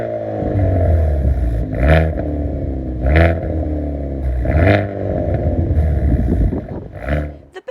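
A 2021 Hyundai i30N with a performance exhaust starts up and is revved, giving a loud roaring start followed by three or four sharp rising blips that fall back to a burbling idle, close by.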